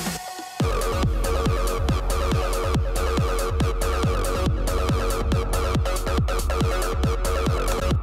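An acid house style track played back from production software, with a steady four-on-the-floor kick drum, bright hi-hats and a buzzing synth line, loud and continuous after a brief quieter start.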